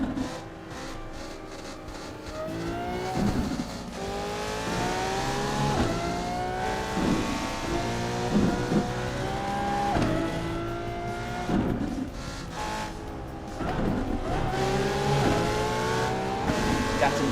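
BMW M-Power car engine in a racing video game, revving and shifting through gears with repeated rising sweeps and occasional tire noise, steady and fairly loud throughout.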